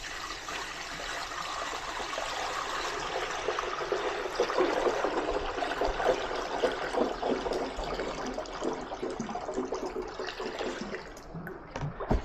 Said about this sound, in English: We'll take the lid off, just pour this up top.